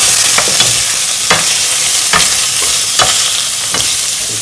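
Steak and shallots fry in a pan, a loud, continuous sizzle broken by regular scraping knocks as they are stirred, with no voices.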